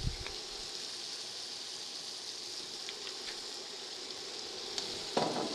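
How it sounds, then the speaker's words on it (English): Garlic sizzles in a small ring of oil in the middle of a pan for chicken cacciatore, a steady bright crackling hiss throughout with a few faint pops near the end. "drop the garlic into that oil ring and just kind of let it sit there"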